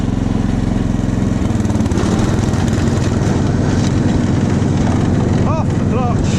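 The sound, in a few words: Snapper lawn mower running with blade engaged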